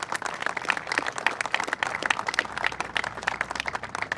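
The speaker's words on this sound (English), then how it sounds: "They truly deserve a round of applause." Building trades workers at the I-376 Parkway East reopening in Pittsburgh receive a steady round of applause from the audience, with dense continuous clapping throughout and no speech over it.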